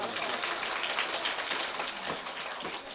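Applause from an audience at a government primary school award ceremony, a moderate, steady patter of clapping lasting the full few seconds with a faint voice beneath.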